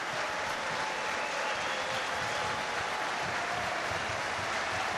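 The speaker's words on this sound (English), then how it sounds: "the applause you hear is from Zeb Tyre coming off the field" Stadium crowd applauding a rugby league player leaving the field during a Challenge Cup quarter final, a dense, distant and even wash of clapping across the whole stretch.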